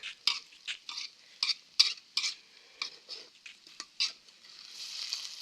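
Vegetables stir-fried in a pan for a Thai-Isan home cooking dish: a series of sharp scraping and clattering strokes of a utensil against the pan, irregular and close, with light sizzling in between and a steadier hiss at the end.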